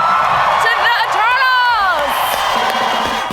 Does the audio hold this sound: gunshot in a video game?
no